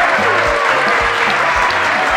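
Short burst of audience applause for a young Caracas music group on a show, loud and dense clapping filling the moment, with a low rhythmic musical beat thumping underneath.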